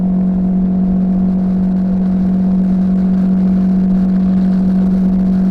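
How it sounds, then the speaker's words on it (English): Riding a Royal Enfield Himalayan 450 motorcycle at about 70 mph, with a steady loud engine drone and a constant high buzz from vibrating mirrors under rushing helmet wind noise. "There's a bit of wind noise in the helmet, but those mirrors are buzzing."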